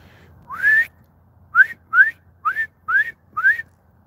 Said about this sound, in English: That was an extremely loud whistle.